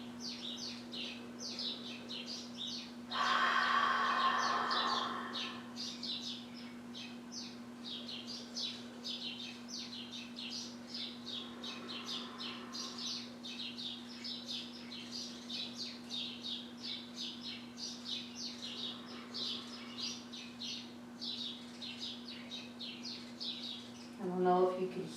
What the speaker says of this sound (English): There's some birds chirping really loudly outside.